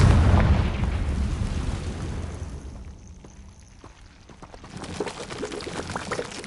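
A Confringo spell explosion in the video game Hogwarts Legacy, starting with a loud boom and rushing burst that decays into a fading rumble, followed by smaller crackling pops.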